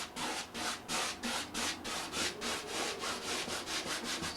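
A brush scrubs turpentine paint across a canvas in quick, even back-and-forth strokes, a close, dry rubbing rhythm repeating steadily with no talk.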